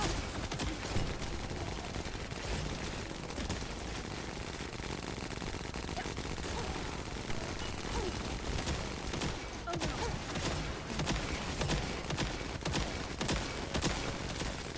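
Dense, continuous automatic gunfire from the shooter video game The First Descendant, rapid overlapping bursts with sharp cracks that stay loud and busy throughout, dense and unbroken.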